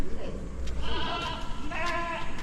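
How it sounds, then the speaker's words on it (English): Goats bleat in a series of wavering, nasal cries from a short distance in a back area of the Clark Air Force Hospital grounds, calling several times over a low background murmur. "Guys, here are the goats."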